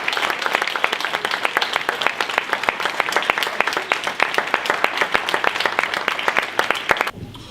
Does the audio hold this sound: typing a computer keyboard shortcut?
no